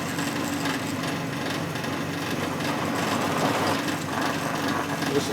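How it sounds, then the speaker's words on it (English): A drill bores sideways into soft aluminum on a custom chopper motorcycle, producing a steady, grinding whir with scraping texture that continues throughout at close range. "Drilling sideways there to get it more centered."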